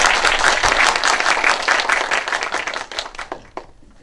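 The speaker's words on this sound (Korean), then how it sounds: "박수로 맞아주시기 바랍니다." An audience claps loudly to welcome the main guest, a mayoral candidate, at a youth policy event in Chuncheon, dense applause that holds steady and then tapers off near the end.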